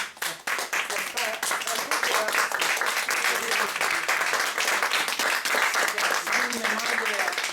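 Sustained, loud applause from a crowd, dense steady clapping that fills the whole stretch without letup.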